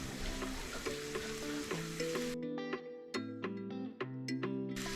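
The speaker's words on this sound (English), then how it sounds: "let's put this in the frying pan." Food sizzles and fries steadily in a frying pan, a close, continuous crackling hiss that abruptly cuts out midway, leaving soft tonal background music playing alone.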